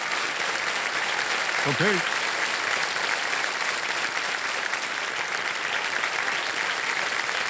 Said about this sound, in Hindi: जोरदार ताली एक बार बढ़ जाए।